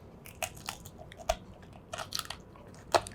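Knife or shears crunching through a turkey backbone while spatchcocking it for smoking, a series of sharp, close, dry cracks and snaps spaced irregularly over a few seconds, with no talking.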